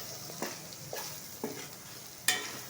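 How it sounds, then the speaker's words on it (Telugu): Boiled mutton fries in a pan with ginger-garlic paste and garam masala, a soft steady sizzle broken by several sharp scraping stirs of a spoon, close and fairly quiet. "అల్లం వెల్లుల్లి పేస్ట్ పచ్చివాసన వెళ్ళిన తర్వాత కొంచెం గరం మసాలా ఉడికించుకున్న మటన్ని వేసుకొని ఫ్రై చేసుకోవాలి"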